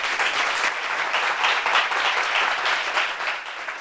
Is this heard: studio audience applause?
yes